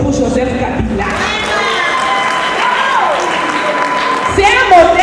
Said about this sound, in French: Il faut applaudir pour Joseph Kabila